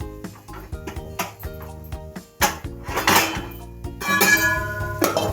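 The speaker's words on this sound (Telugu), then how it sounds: "ఇట్లా ఒక గిన్నెలో వేసుకున్నామండి మనం" Cabbage and moong dal is spooned from a pot into a serving bowl, with metal utensils clinking and scraping in repeated close, sharp knocks that build into a denser clatter toward the end. No one speaks.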